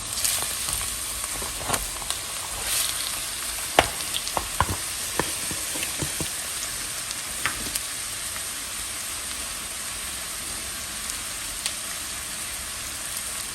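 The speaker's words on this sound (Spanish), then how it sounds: "Aquí le voy a agregar medio kilo de carne molida de res." Half a kilo of ground beef and half a chopped onion fry in a pan, making a loud, constant sizzle broken by scattered crackles and scraping stirs, with no voices.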